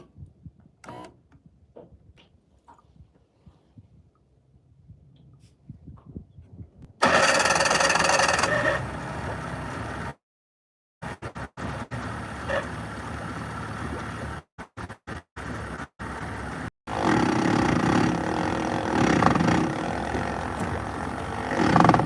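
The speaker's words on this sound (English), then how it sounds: "we are running, baby. Sorry about that. It's an old two-stroke." An old two-stroke engine is cranked several times in choppy bursts before catching and running loudly, a rough, buzzing roar close by after a quiet, scuffling start.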